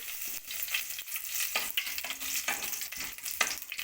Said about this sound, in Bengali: দুটো তেজপাতা আর দেবো ফোড়ন দিতে হবে দুটো এলাচ আর একটু গোটা জিরে গোটা জিরে দিলাম